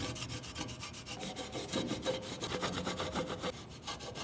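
A car's surface is polished by hand during detailing, giving a quick, steady rhythm of rubbing strokes that keeps going without pause and with no talk.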